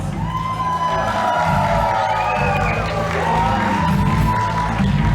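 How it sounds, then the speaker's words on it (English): Wedding reception guests cheer and whoop loudly and continuously, with excited shouts rising over steady applause. "Friends and family, cheer them on."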